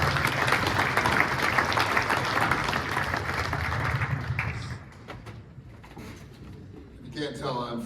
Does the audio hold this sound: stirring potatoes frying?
no